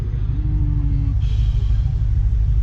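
A 2006 Audi RS4 engine gives a steady, deep rumble throughout, loud and close, like a continuous low idle with no sharp revs.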